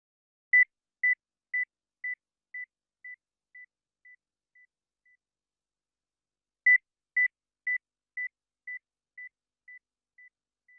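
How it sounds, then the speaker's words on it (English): A pure 2000 Hz test tone sounds as a series of short beeps, each step about 5 dB quieter, fading to near inaudibility, then the descending series repeats a second time. "You will hear a 2000 Hz tone in 10 decreasing steps of 5 decibels."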